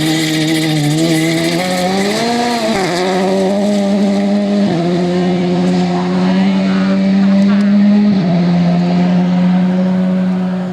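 A rally car on a gravel stage approaches and roars past close by, its engine loud and rising and falling through gear changes and revs, with tire noise on the loose surface.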